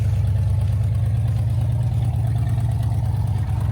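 A 1969 Cadillac DeVille engine idles steadily through its exhaust, a loud, close, low burbling rumble with an even pulsing rhythm and no talk over it.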